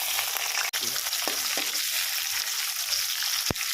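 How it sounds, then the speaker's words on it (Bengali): Chopped onions frying in a pan for a home-style thin chicken curry, a steady close sizzle with a few soft stirring clinks and scrapes, no voices. "পেঁয়াজটা ভাজা হয়ে গেছে"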